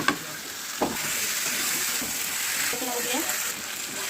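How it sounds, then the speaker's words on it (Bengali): Fried potatoes tipped into a sizzling chicken curry in a pan, with continuous frying hiss and intermittent stirring scrapes, close up and fairly steady. "এবার ভাজা আলুগুলো দিয়ে দেবো।"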